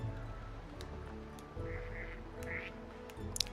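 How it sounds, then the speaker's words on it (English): Fantail ducks in the video game Baten Kaitos II quack in a few short, nasal bursts over steady game music, with no talking. "These fantail ducks are like children to us."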